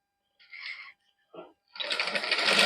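An electric sewing machine stitching lace onto a plain suit starts after two short pauses and runs in a loud, fast, steady whir up close, with no talk.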